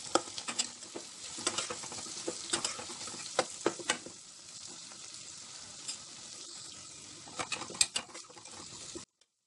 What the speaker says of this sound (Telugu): 1 స్పూన్ జీలకర్ర, ఉల్లిపాయలు, కరివేపాకు వేసి ఫ్రై చేసుకోవాలి